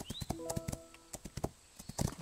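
A grey horse in Rival Stars trots along with quick, uneven clip-clopping hoofbeats, close and fairly loud, while game music plays underneath.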